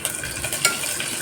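Garlic, onion, curry leaves and tempering spices sizzle together in hot oil while being stirred, giving a brief, steady, close-up frying hiss.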